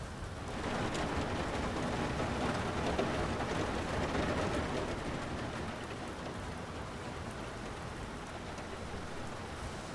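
Rain falling on the deck of a World War II U-boat in the game UBOAT, a steady dense hiss that swells early and holds at a constant, close level with no voices.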